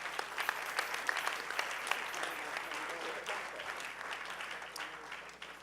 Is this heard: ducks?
no